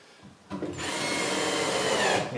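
A power drill drives a number 4, half-inch screw into a three-quarter-inch wooden board while installing a metal electrical box. After a brief pause, a close, steady whir sets in and holds for about two seconds.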